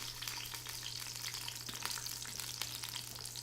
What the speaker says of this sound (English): I'm gonna turn it down low enough so that that sizzling is gonna curb.